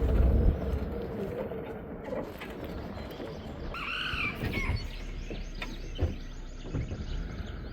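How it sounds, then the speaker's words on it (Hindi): Outdoor ambience with birds chirping and calling over a steady background rumble, a few brighter calls standing out midway. "छोटी छोटी सी चिड़िया इतनी तेज आवाज करती है।"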